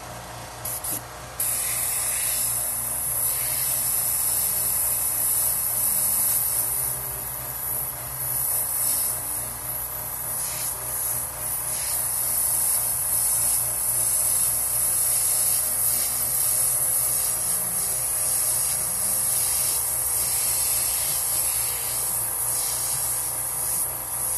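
An airbrush sprays paint with a loud, steady, unbroken hiss close to the listener for the whole stretch. No voices.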